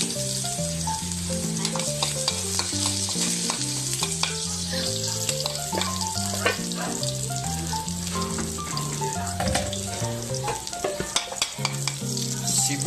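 Garlic frying in a pan for ginisang tabugok, a steady broadband sizzle running throughout with background music playing over it, no voices.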